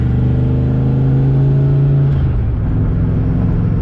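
Engine of a car fitted with a new Tremec TKX manual transmission pulling under load, a loud, steady low drone with rising tones and faint drivetrain whir, heard up close from inside without talk.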